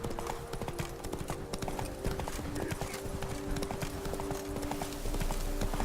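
A horse's hooves clip-clop at a steady walking rhythm in the video game The Witcher 3, close and clear over a low ambient backdrop, with a brief snort or whinny mixed in.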